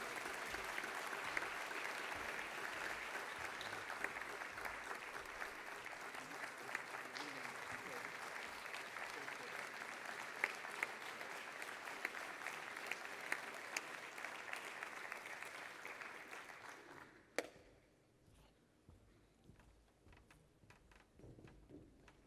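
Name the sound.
audience applause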